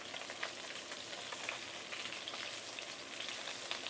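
Small fish frying in a pan of oil, a continuous even crackling sizzle, close but fairly quiet, with no talk.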